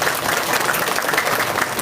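A crowd at an Indonesian Islamic sermon applauds steadily, a dense wash of clapping that holds at an even, loud level throughout.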